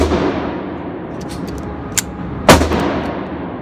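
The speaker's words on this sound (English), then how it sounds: "I'm going to do 3 shots to the body and just repeat that." Two sharp shots from a Taurus PT1911 pistol fired at a target, a smaller crack followed by a louder, broader report about half a second later, each standing clear over steady outdoor background noise.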